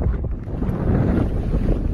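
Heavy headwind buffets the microphone in a steady, low roaring rumble with no other sounds, near South Pass City on the Continental Divide Trail.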